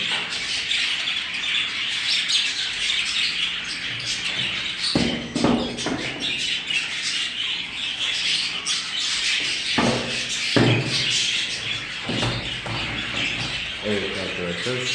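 Japanese quail chicks in a breeding room give a constant dense chorus of high chirps and squawks, with occasional louder calls and scuffling bursts standing out, close and fairly loud throughout.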